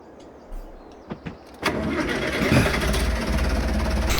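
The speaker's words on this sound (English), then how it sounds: "Let's grab the tractor. Let's jump in here." A small tractor engine in a farming and logging game, with a few quiet clunks and cranks and then a sudden start into a loud, steady rumbling idle.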